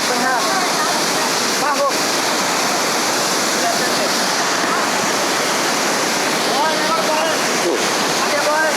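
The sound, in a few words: waterfall water rushing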